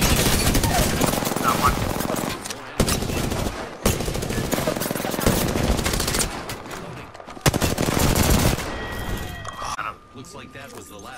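Dense automatic gunfire from an Apex Legends firefight, loud and sustained in long rattling bursts with short breaks, layered over game effects and chatter.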